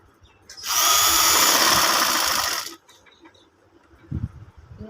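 A sewing machine stitches a round neckline on a ladies' garment in one loud, continuous burst of about two seconds, then stops, leaving quiet handling noises.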